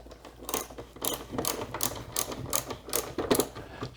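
A screw is driven into the back floor of a minivan being converted for camping, bursts of ratcheting, clicking mechanical sound at close range that start and stop irregularly, with no talking.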